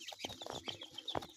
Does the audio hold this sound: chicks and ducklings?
yes